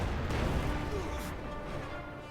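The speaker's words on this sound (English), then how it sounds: "Detonate the explosives." Explosives detonating in Company of Heroes 2, a heavy low rumbling blast with crashing debris, mixed with game voices and battle noise.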